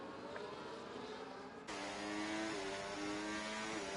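A race car engine in a sim racing game at Bahrain runs under heavy throttle, a sustained high droning whine that steps up and grows louder partway through, steady and fairly faint.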